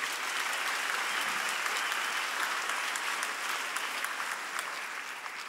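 Sustained, dense applause from a concert crowd in Los Angeles fills the room for the musicians, holding at an even level throughout before easing slightly at the very end, with no voices over it.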